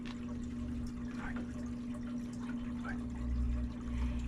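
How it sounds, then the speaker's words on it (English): Water flows steadily through an overhead sump filter on a 5-gallon aquarium, a continuous close pouring and trickling under a constant low pump hum. "the water is so powerful that it just picks up all the muck and puts it in that little lip and gets pumped up"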